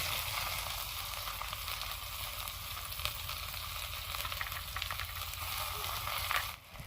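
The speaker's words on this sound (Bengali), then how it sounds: "এখন পেঁয়াজ দিয়ে নেব।" Onions frying in oil make a continuous, moderately loud crackling sizzle close by, with occasional pops, before the sound drops away at the very end.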